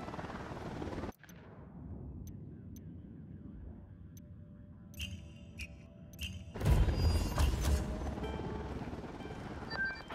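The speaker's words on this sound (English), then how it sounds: "Chopper incoming." A helicopter approaches in the Ghost Recon Wildlands video game: a steady thrumming rotor drone that swells louder partway through, with a sharp bang near the start and faint electronic beeps.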